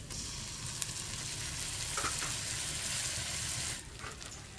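Ginger and garlic paste hits hot oil with lightly browned onions in a pan while cooking mutton-fat ghugni, giving a continuous close sizzle with brief stirring scrapes.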